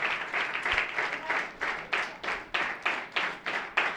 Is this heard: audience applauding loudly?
yes